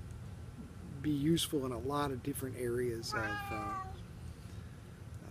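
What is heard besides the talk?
pet cat meowing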